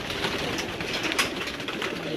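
Pigeons on a rooftop, soft repeated cooing over a continuous background hiss, with faint voices in the distance.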